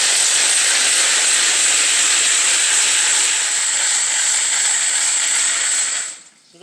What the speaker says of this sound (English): we're going to turn some water on here. Give it a rinse